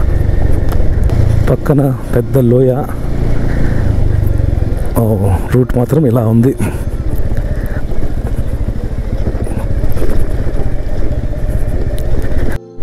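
A motorcycle rides through a dense forest road near a deep valley, the engine droning loud and steady throughout with bumpy clatter over the rough route, while a rider talks over it at times.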